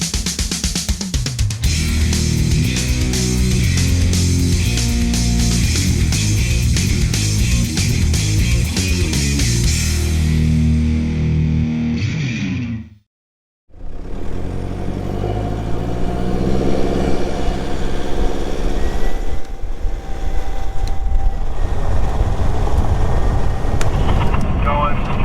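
Pickup truck towing an empty trailer on a road: a steady, loud engine drone and road rumble that drops out briefly, then resumes, with someone talking over it.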